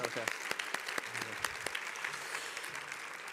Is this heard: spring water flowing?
no